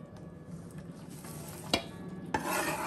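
Green, yellow and orange peppers, onions, scallion, thyme and tomatoes tumble into a pot with pork for brown stew, a low sizzle marked by two sharp clatters and then a louder, fuller hiss near the end.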